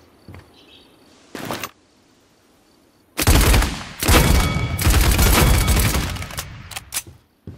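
Video game gunfire while aiming down iron sights during a training session: two brief early shots, then long, loud rapid-fire automatic bursts separated by short gaps, close and dominant.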